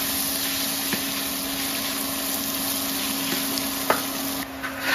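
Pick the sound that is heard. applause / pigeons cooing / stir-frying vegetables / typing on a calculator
stir-frying vegetables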